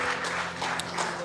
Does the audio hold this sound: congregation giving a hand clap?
yes